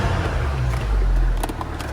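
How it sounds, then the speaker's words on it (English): A VW Scirocco (2008–2017 generation) fitted with a Ramair induction kit revs up close by, its engine rising in a short, loud swell of deep intake roar before settling back. "Let me just rev the car a bit."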